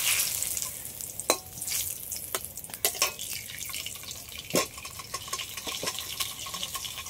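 Dried red chillies and bay leaves in hot mustard oil in a wok, a quiet steady sizzle with crisp crackles and pops and occasional stirring, with no talk.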